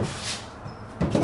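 A wooden drawer is fitted into a frameless base cabinet with tandem runners, giving a soft sliding rustle and then a sharper knock as it seats near the end.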